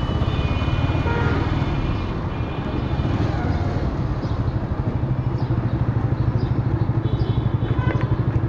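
A Suzuki GSX-R motorcycle engine runs steadily at close range, a dense rumbling drone with some wind buffeting and no clear revving changes.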